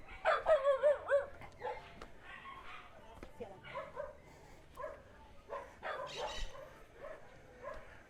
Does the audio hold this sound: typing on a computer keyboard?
no